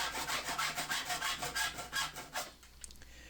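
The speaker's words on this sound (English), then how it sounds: "a little hacksaw to grab that little piece that wouldn't come off" A small hacksaw cuts off a piece of floor trim in a Ford Transit van, with about ten rhythmic rasping strokes up close that stop abruptly near the end.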